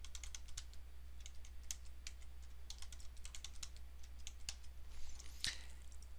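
Fast, steady clicking of keys on a computer keyboard as a password is typed during account setup, close and fairly quiet, with no voices.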